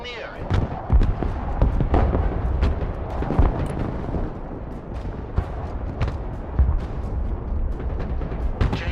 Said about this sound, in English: Strafing the area.